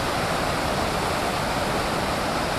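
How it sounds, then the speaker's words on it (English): A broad, steady rush of river water flowing on the Ice Lake trail in Oregon, a wide, swollen river with a logjam; the noise is constant and fairly loud with no breaks or voices. "this is the river here"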